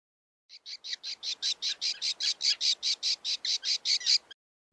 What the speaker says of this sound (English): Gannet.